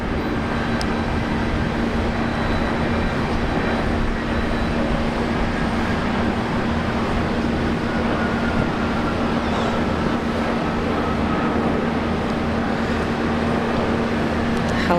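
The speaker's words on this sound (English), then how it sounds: "VHOYR arriving in from Auckland. This is one of the new A321 Neos." A Jetstar Airbus A321neo, registration VH-OYR, arrives at Brisbane Airport from Auckland, giving a steady, distant engine roar and faint whine that holds evenly throughout under broad background noise.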